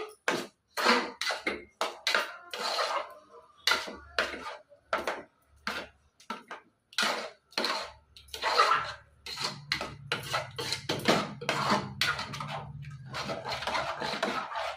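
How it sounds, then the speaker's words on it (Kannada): Cooked prasad and jaggery are stirred and mashed in a pot, giving a run of irregular soft knocks and scraping strokes at moderate volume, with a low rumble joining in the later part. "ಇದ್ರಲ್ಲೇ ಚೆನ್ನಾಗಿ ಹಿಂಗೆ ಕೈಯಾಡ್ತಾ ಇದ್ರೆ ಸ್ಮ್ಯಾಶ್ ಆಗುತ್ತೆ"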